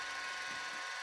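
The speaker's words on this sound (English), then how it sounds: "You see the tail rotor blade? It's spinning." The tail rotor of a Yu Xiang F09 RC scale helicopter spins steadily, giving a continuous high-pitched electric whir. It is close and even, with no speech over it.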